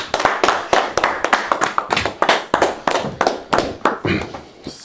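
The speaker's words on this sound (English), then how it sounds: "And this goes to Jake, so round of applause for Jake." A small workshop audience claps, with a handful of distinct hands giving loose, uneven, close-sounding claps for about five seconds and no voices over them.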